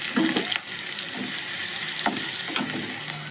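Chopped onions sizzle and fry in hot oil with cumin seeds, curry leaves and green chili, a steady close crackle with occasional stirring scrapes and no talk.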